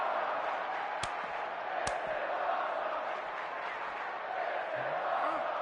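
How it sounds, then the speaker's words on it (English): Arena crowd noise in the WWE 2K26 wrestling video game as CM Punk plays to the fans, a steady loud roar of cheering throughout with a couple of sharp impact-like cracks. "CM Punk playing to the crowd now"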